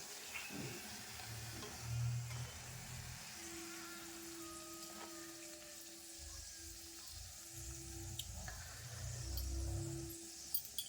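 Luchi made with ripe palm fruit puffing up as it fries in hot oil: a soft, steady sizzle and faint crackle close by with some low rumbling, quiet and without talk.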